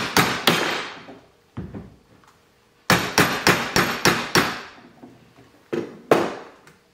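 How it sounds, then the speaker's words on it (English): Hammer tapping on the end of a threaded pin's nut while fitting fins to an outboard jet intake: sharp metallic strikes, two early, a lone hit, then a fast run of five or six and a final pair. "We're just gonna tap on the end of the nut."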